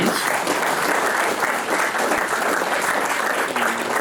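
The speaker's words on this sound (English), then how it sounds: "a round of applause for all our nominees" Sustained applause from an audience at an Australia Day awards ceremony, clapping steadily for the award nominees, dense and even throughout with no voices standing out.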